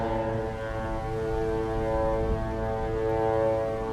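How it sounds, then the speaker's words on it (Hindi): Horns blow at a port on the Detroit waterfront by the US–Canada border: a continuous, steady tonal blast with layered harmonic pitches that holds through the whole stretch over a low rumble of background noise. "दोनों ड्राइवर हॉर्न बजा रहे हैं,"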